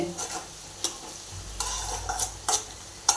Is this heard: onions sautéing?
yes